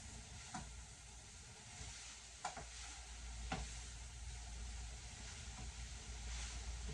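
Sausages fry in a pan for Chinese noodles, giving a faint, steady sizzle with a few soft pops and scrapes, no voices.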